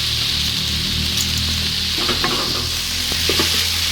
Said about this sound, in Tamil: போட்டு நல்லா மிக்ஸ் பண்ணிக்கலாம்.